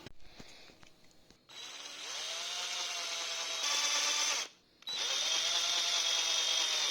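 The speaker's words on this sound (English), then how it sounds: "So I'll drill some holes for the screws to go in." A power drill bores small 3 mm screw holes into a wooden sim racing wheel stand, with two close, steady whirring bursts that rise in pitch as the bit spins up, separated by a brief pause.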